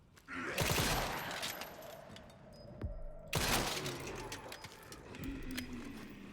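Bursts of gunfire from the video game Requiem, played on insanity difficulty, two loud volleys with sharp cracks and clattering tails, a brief quieter gap between them.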